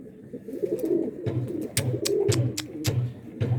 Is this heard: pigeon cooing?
yes